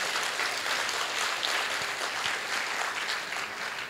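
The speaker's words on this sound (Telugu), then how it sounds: "ఒకసారి గట్టిగా చప్పట్లు కొడదామా?" An audience claps loudly and continuously, a broad wash of many hands heard at a slight distance, steady from start to finish with no voices over it.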